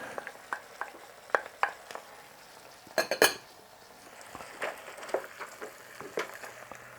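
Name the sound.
adding potatoes and carrots to a pan for lumpia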